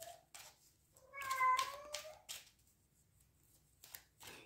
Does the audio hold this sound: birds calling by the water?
no